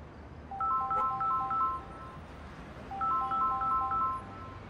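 Telephone ringtone of electronic warbling tones, two bursts of rapid repeated beeps about two seconds apart, moderately loud over a quiet room background, with no talking.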